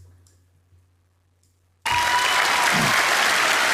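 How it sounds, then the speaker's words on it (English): Near silence breaks abruptly into loud, dense applause from a crowd, the clapping sustained evenly until the end. "people start clapping"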